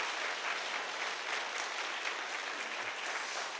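Audience at a Korean church Blossom Day event applauding Professor Kim Hyung-seok, a dense, steady wash of clapping from many hands filling the hall, even in level throughout with no speech.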